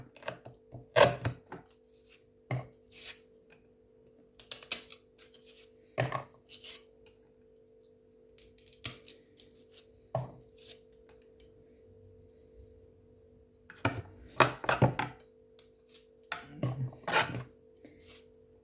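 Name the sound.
chopping drumstick (moringa pod) into small pieces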